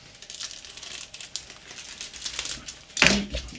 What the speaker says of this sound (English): polythene type bag.